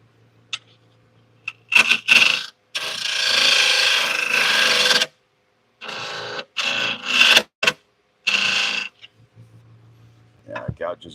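Woodturning gouge cutting into a bowl on a lathe, bursts of harsh close scraping and rasping in separate passes with quiet gaps between, a voice speaking briefly among them.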